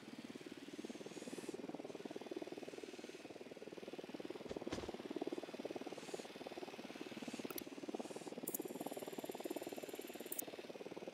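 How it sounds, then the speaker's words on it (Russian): A drone is launched in the tactical shooter Ghost Recon Wildlands, giving a faint, steady rotor buzz that pulses evenly throughout, with a few brief electronic beeps near the end. "Запускаю дрона."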